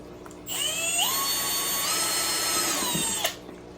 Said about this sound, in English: So let's just go ahead, drill a bunch of holes